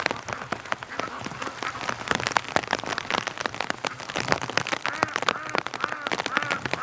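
Rain patters steadily on surfaces, a dense crackle of drops with sharper splats mixed in, continuous and close.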